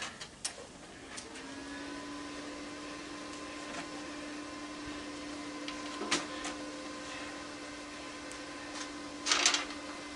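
A furnace blower motor, unhooked from a scrapped furnace, hums steadily at low volume, with a few sharp clicks and knocks along the way.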